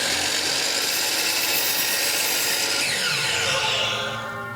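A saw cuts through a wooden stair step, a dense, loud, continuous cut close by for several seconds that eases slightly toward the end.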